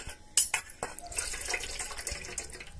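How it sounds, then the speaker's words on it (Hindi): Silver anklets rinsed under cold tap water: a steady stream splashes into a sink, broken by small metallic clinks and sharp clatters as the pieces are handled, close and moderately loud throughout. "इसके बाद में हमें डायरेक्टली ठंडे पानी से इसको धोना है"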